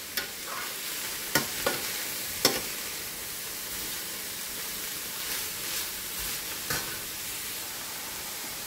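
Mushrooms sautéing in a pan for a spaghetti sauce, a steady soft sizzle with a few sharp clicks and stirring scrapes scattered through, close and fairly quiet, no talking.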